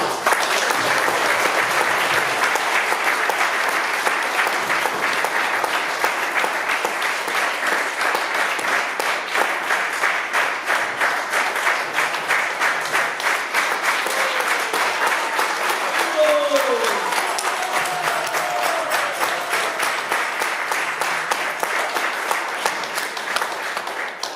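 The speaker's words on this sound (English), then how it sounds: "please put your hands together for all the efforts that His Holiness Vedvyas Priya Swami Maharaj has done for us" Devotees at a Vyasapuja gathering in Wellington, New Zealand applauding in a long, dense, steady round of clapping with faint cheering mixed in, sustained loud throughout.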